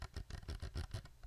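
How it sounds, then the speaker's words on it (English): Scroll wheel of a G-Wolves Hati S Plus 4K gaming mouse rolled briskly, giving a steady run of soft, close ratcheting notches with no speech. "Scroll wheel."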